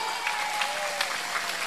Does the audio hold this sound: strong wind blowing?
no